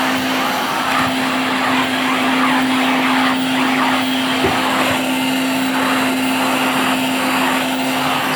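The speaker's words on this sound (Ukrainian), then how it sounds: "дуже непогано смоктує пил, бруд на килимі" Continuous loud drone of a Typhoon vacuum cleaner on a carpet with a steady high whine, rising and falling subtly in rhythm as it sweeps back and forth.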